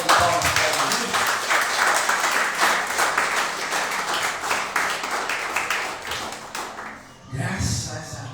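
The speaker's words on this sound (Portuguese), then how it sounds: "Vamos dar a salva de palmas para Jesus." A church congregation applauds, a dense sustained round of clapping that carries on for several seconds before thinning out near the end.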